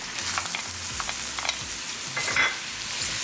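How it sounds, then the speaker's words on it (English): Ginger and garlic frying in olive oil with cumin seeds for a turnip chicken drumstick curry, a steady close sizzle with stirring scrapes throughout, no talking. "Now I'm going to bring ginger and garlic."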